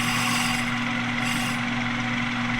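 A lathe slowly bevels a bronze bearing bushing with a steady mechanical hum and a continuous low motor tone, the cutting carried as an even drone without breaks.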